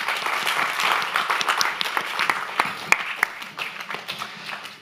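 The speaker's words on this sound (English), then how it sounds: "Round of applause." Audience applause after a creative coding demonstration, starting as a dense wash of clapping and thinning toward the end into scattered, distinct claps that fade out.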